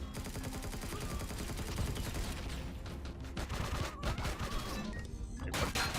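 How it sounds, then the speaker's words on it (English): Dense, continuous gunfire from an SMG and turrets in the multiplayer space game Empyrion: Galactic Survival, a loud, steady clatter of rapid shots filling the whole stretch with a few sharper bursts near the end. "Stop shooting me in the ass"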